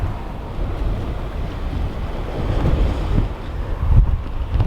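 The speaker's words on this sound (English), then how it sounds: "It's a strong westerly, and it's running at about 25-30 mile an hour wind" Strong westerly wind of about 25 to 30 miles an hour gusting across a beach, roaring continuously into the microphone with surf rumbling beneath and building in force toward the end.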